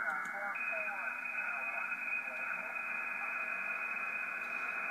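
Receive audio from a Flex-1500 SDR radio through a 2.4 kHz filter, a steady band-limited hiss with faint garbled signal content running continuously at low level.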